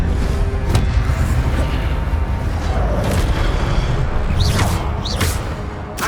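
The Incendio fire spell in Hogwarts Legacy sets off a loud, continuous roaring blast with whooshing surges and a few rising magical whistles near the end, all of it dense and close.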